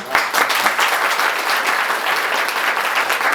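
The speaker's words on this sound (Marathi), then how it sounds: "त्यांच्यासाठी एकदा टाळ्या वाजवूया" An audience of students and guests at a road safety awareness event at a college applauds steadily, a dense, even wash of clapping that holds loud for the whole stretch with no voices over it.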